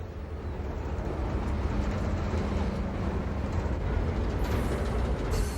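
A freight train rolls past in Cincinnati as a continuous loud rumble and rail roar, joined by traffic noise from a nearby interstate and faint distant carillon bells.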